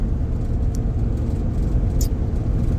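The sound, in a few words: LS-swapped car engine running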